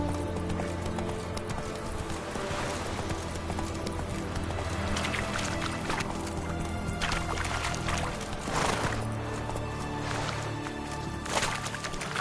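Hooves of Roach, the horse in The Witcher video game, clip-clop steadily at a walk over a layer of in-game music and ambience, with no voices heard.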